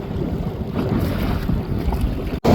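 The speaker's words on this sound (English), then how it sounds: "Really nice breeze now, pushing 16, maybe even 18 knots." Strong wind roars steadily across the microphone during a sailing race in a breeze of about 16 to 18 knots, with water and hull noise beneath; a brief dropout near the end is followed by loud gusting.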